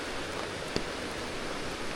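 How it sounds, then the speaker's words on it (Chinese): Roaring waterfall in a rainy high-altitude forest valley near Songpan, a dense steady wash of falling water heard from close by, continuous and loud with no voices. "还没有到，就听到旁边瀑布的声音很大了"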